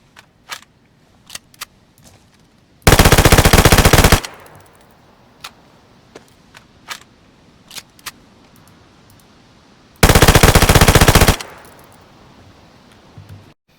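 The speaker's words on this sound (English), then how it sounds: "It burns through the 20-round mag in a couple seconds flat." A Scorpion submachine gun chambered in .380 ACP fires full-auto at 900 rounds per minute in DayZ, emptying its 20-round magazine. Two loud, dense bursts of over a second each stand out, with quiet clicks and handling noises between them.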